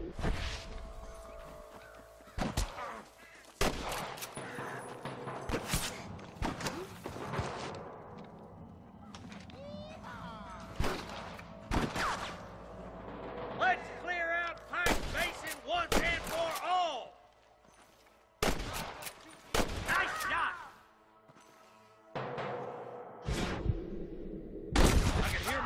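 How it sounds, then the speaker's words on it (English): Gunfire in the Red Dead Redemption video game, a shootout with snipers: sharp shots crack out in scattered bursts throughout, loud and close, mixed with game music and other effects. "Gunshots."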